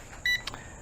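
A UDIRC U12S FPV helicopter gives a low-voltage alarm, a short bright electronic beep followed by a quicker chirp, heard close over a faint background hum.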